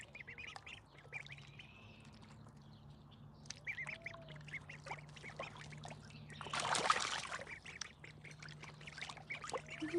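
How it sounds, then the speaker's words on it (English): Ducklings quack and peep faintly in a homestead brooder with a plastic liner, scattered short calls over a steady low hum, with a brief louder splashy burst partway through; distant and quiet throughout. "Cute duckies."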